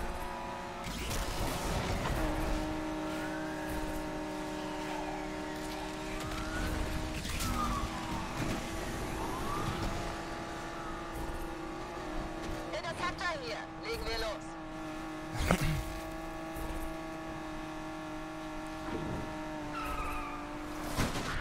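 Racing in Need for Speed Unbound, with engine drone shifting pitch, tire squeals and skids, and occasional impacts throughout, moderately loud under someone speaking German.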